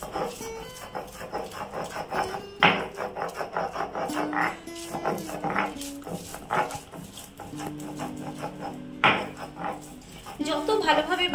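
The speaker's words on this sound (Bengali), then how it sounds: "শিলনোড়াতে নিয়ে নিয়েছি, এগুলোকে খুব ভালোভাবে বেটে নেব।" Roasted ingredients are ground on a traditional stone grinding slab (shil-nora), giving steady rhythmic scraping and rubbing strokes with occasional knocks of stone on stone, fairly close and continuous.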